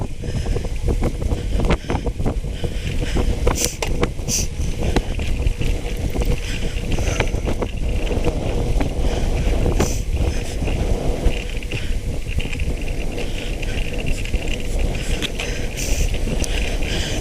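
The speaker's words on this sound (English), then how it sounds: "Wind's getting up a bit now." Strong wind buffets the microphone of a moving bicycle on a rural ride, a loud, continuous low roar with gusty bursts and crackles that never lets up, with no talk over it.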